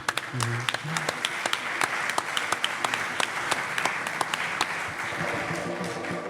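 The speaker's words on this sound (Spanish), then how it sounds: "Un aplauso, por favor." An audience at a mystery-themed conference in Zamora applauds, with a dense, sustained wash of clapping and sharp individual claps that fades a little near the end.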